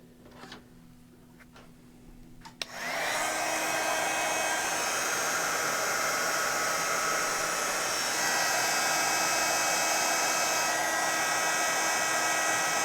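A heat tool switches on with a click and blows a loud, steady whooshing roar, melting material on a mixed media artist trading card; the blowing continues unbroken after a quiet start.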